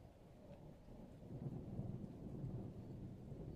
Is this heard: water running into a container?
no